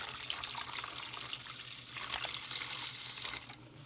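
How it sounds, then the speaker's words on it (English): Evaporust rust remover liquid poured into a tray to cover rusty objects, a steady close splashing trickle that runs for a few seconds before tapering off near the end. "Then we're going to take the Evaporust and pour it in there."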